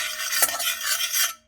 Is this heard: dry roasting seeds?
yes